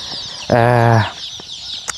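A chicken lets out a single loud, drawn-out squawk up close on a rural property, with faint scattered farmyard noises before and after.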